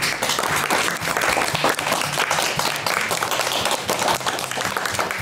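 Sustained, dense applause from an audience filling the room, steady and loud throughout with no pauses, as several named performers are called forward after a school event.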